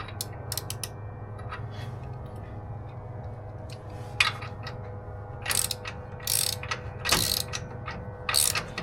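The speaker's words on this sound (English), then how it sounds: "So I'm going to take the ratchet to this" A hand ratchet tightens a bolt on a bike rack hitch: quiet, irregular bursts of sharp clicking over a low background hum, with short pauses between strokes.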